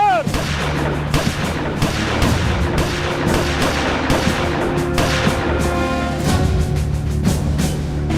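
Rifle fire from shouldered guns at a drill, sounding as repeated loud shots and booms in a steady barrage across the whole span, with a dense rumbling background and no clear talk.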